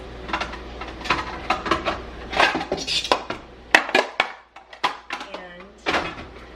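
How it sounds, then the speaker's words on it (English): Metal baking pans, including bread pans, clatter and clank as they are handled and stacked in a kitchen cupboard, a close run of repeated sharp metallic knocks with a voice talking over them. "I got my bread pans here, which I need to stack these."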